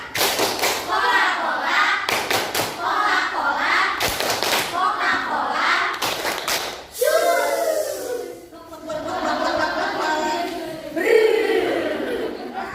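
Classroom of children in an Indonesian fifth-grade lesson doing the rhythmic 'Tepuk Coca-Cola' clap, sharp patterned claps and thumps in time with the class chanting along, followed by kids' voices continuing.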